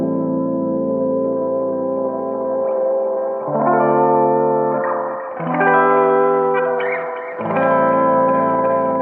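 A WOFI software synth patch plays through its digital low-pass filter, giving sustained chords that shift pitch in several stepped sections, loud and continuous, with the brightness opening and closing and no voices.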